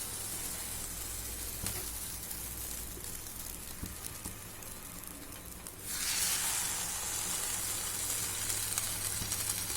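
A bread slice dipped in beaten egg and sugar for French toast hits a hot dosa griddle. Quiet background hiss jumps into loud, bright, steady sizzling, with no talking.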